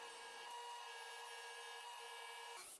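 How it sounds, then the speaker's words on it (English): A table saw with a 3/4 inch dado blade cuts wood with a steady, loud machine whine and broad hiss, running continuously for a couple of seconds before cutting off at the end. "Then using a 3/4 inch dado blade on my table saw,"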